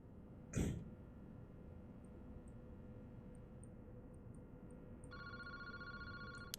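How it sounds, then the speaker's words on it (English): A telephone rings in a quiet park in the horror game Paranormasight, its electronic ring starting late and repeating steadily over a low hum, after a single throat clearing near the start. "The ring of the phone is the only sound cutting through the quiet park."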